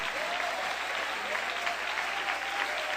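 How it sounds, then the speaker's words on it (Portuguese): A church congregation at a revival night service claps steadily together, a dense, even wash of applause mixed with faint shouts of praise, sustained and fairly loud throughout. "Palmas misturado com glória a Deus"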